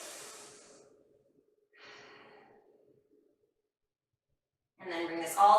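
Slow, faint breathing during a post-workout stretching routine, a long airy exhale, a pause, then a softer breath, after which a voice starts speaking near the end.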